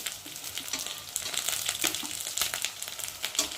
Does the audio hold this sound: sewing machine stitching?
no